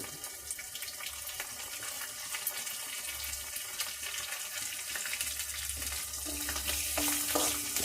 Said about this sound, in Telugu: నేను పోపు అంతా ఇప్పుడు గోంగూరకి వేసే పోపు అంతా కూడా హైలోనే వేయిస్తున్నాను